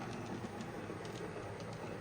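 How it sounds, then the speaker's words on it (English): A model railway 14XX steam locomotive hauling an auto coach trundles around the layout, giving a steady low rumble with faint rhythmic wheel clicks, fairly quiet and continuous. "we've got the 14XX trundling round with the auto coach quite nicely there"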